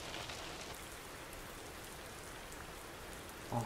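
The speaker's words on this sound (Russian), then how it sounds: "Давайте-ка мы с вами включим дождик" Rain in the truck-driving game Euro Truck Simulator 2, played with a SISU M-Series truck mod: a steady, dense hiss of raindrops drumming on surfaces throughout, with no talking.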